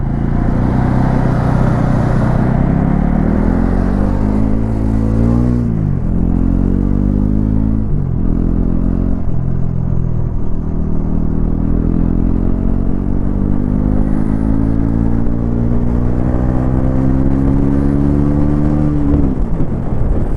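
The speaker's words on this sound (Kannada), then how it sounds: "ಈಗ ಹಪ್ಪು ಯಾವ ಥರ ಹತ್ತೋದಂತ ನೋಡೋಣ." Bajaj Pulsar NS400Z 2026 motorcycle, 349cc, climbing a steep slope with a rider of 95 kg aboard, its engine loud and close throughout, revving up in pitch repeatedly with gear changes and dips.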